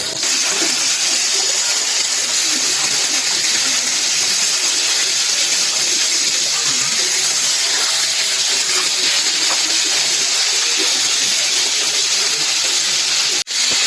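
Breaded chicken pieces frying in hot oil give off a loud, continuous sizzle and hiss, dense and close throughout, ending with a brief knock.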